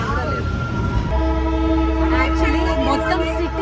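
The Darjeeling toy train rumbles steadily along its track while a sustained horn or whistle tone sounds over it. The rumble is loud and near, with voices faintly audible in the background.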